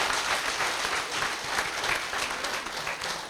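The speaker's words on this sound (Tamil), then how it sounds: "இதுக்கே வந்து ஒரு பெரிய ஒரு கைத்தட்டல் கொடுக்கணும்." Audience at a closing ceremony in Tirupur applauding steadily, a dense, even patter of many hands clapping with no voices over it.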